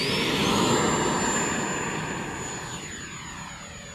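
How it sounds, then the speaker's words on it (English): An E-Flite Viper 70mm electric ducted-fan RC jet motor runs steadily, a loud, close high-pitched whine with broad rushing air noise that slowly eases slightly in volume. "Motor on."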